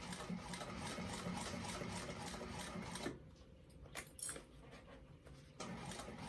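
A sewing machine stitches along a seam on a handmade fabric bag, a steady fast close whirring rattle that briefly pauses and slows in the middle before running again, with no talking.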